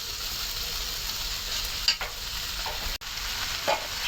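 Taro leaves going into a pan of beef cooking with egg, giving a steady close sizzle with a few stirring scrapes and clinks and no voices.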